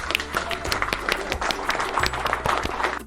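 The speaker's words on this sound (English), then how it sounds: "Give yourself a big clap." Clapping from children in a classroom, a busy patter of many hands with music or voices faint beneath, steady and fairly close for about three seconds.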